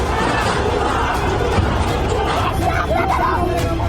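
Protesters clashing with police at barricades, heard as a dense, steady roar of crowd noise with indistinct shouting and chatter blending together at a distance.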